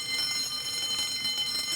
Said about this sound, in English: Hopefully it will alarm.